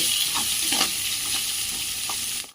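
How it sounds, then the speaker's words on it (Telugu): A cup of thinly sliced onions fries in oil for potato fry, a continuous moderate sizzle with occasional soft stirring scrapes and small pops, close by and without speech. "సన్నగా తరిగి పెట్టుకున్న 1 కప్పు ఉల్లిపాయలు మంచిగా ఆయిల్లో ఫ్రై చేసుకోవాలి"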